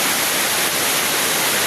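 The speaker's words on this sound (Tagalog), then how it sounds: "ang tubig nabaha" Floodwater rushes across a flooded road near a church in Alaminos, a steady loud broadband roar with no break and no voices.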